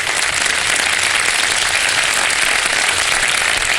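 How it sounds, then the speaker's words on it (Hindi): A studio audience at a Ramadan iftar television show applauds loudly and continuously, a dense, steady wash of clapping with no voices over it. "आइए जनाब भरपूर तालियों में"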